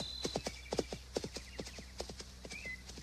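A horse trotting, its hooves giving quick, irregular clip-clop strikes, fairly close but at modest level over a quiet background, with no talk over them.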